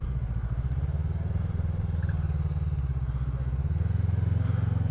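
A Voge 500DS dual-cylinder motorcycle, a 2020 Loncin DS7, runs steadily while being ridden, its smooth engine drone loud and continuous with a rise in pitch near the end.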